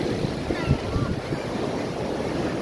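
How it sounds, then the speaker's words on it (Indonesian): Waves wash on a busy beach at Singkawang, Indonesia, as a steady broadband roar of surf with wind buffeting the microphone, close and fairly loud, and no clear talk. "Ini bagus banget teman-teman, tempat dan pantainya."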